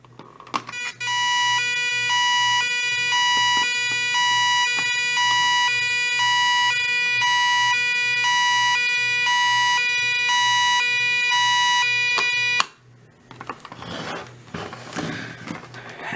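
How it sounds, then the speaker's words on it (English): A GE 7-4845A radio sounds its built-in siren alert tone during a test, a loud steady electronic wail with a rich stack of harmonics holding for about twelve seconds, then cutting off abruptly into quiet handling noise. "here we go with a test of the Siren"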